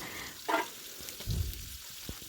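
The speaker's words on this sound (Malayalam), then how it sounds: "മീൻ പൊരിക്കാൻ വെച്ചത്" Fish frying in spicy masala sizzles faintly in a pan, with soft crackles and a couple of louder stirring clatters and bubbling bursts, close by with no talk.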